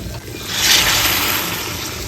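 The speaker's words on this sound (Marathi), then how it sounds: "आता याच्यामध्ये आपण गरम पाणी ओतणार आहोत" Hot water pours in a steady rushing gush into a pan of soya chunk and pea curry, swelling briefly and then holding, close and fairly loud.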